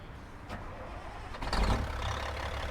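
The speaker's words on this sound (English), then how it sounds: "let's go ahead and get the engine started" A heavy 350-horsepower Volvo VNX 300 truck engine in American Truck Simulator cranks briefly and then catches, settling into a steady rumbling idle, close and fairly loud.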